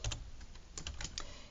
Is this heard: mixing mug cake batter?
no